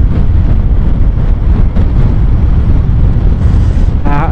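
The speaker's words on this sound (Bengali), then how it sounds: "কি হাওয়া!" Strong hot summer wind buffets the microphone on an open road, a loud continuous low roar with gusty rumble and no speech.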